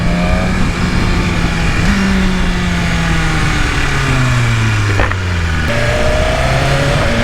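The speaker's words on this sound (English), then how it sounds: "I can hear the engine more than I can the exhaust." A motorcycle engine drones loudly and continuously while being ridden, apparently through its stock exhaust. The pitch climbs and then drops with gear shifts, and no one talks over it.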